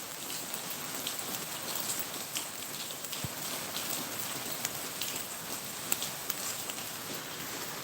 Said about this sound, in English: Mucho is much and lluvia is rain